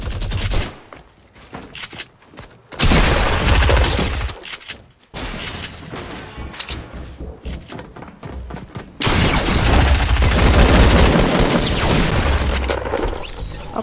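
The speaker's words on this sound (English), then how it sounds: "He's just standing there, shooting a minigun." Minigun fire in a video game, loud sustained bursts of rapid gunfire broken by brief pauses, with booms and impacts layered into the dense, continuous shooting.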